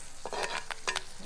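A handful of home-grown curry leaves fries in hot oil with browned onions for potato 65, a steady close sizzle broken by several scraping stirs of a spoon against the pan.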